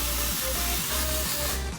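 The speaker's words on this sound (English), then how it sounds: "I'm also gonna spray the Oribe dry texturizing spray." Oribe dry texturizing hair spray hisses from an aerosol can in a long continuous burst, close and fairly loud, with slight pulses as the nozzle is pressed.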